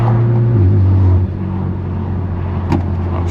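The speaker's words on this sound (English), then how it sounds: "Like, you hear the exhaust bouncing off the walls." BMW F80 M3 Competition with a straight-pipe exhaust driving through a city, a loud, deep drone that drops in pitch as revs ease off, echoing off nearby walls, with a brief knock near the end.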